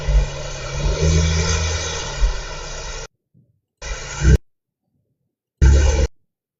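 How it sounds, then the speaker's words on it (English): A P-51 Mustang propeller plane passes overhead as a loud, broad engine roar lasting about three seconds, followed by two shorter bursts of the same roar separated by silence. "Is that a Mustang? Is that the Mustang?"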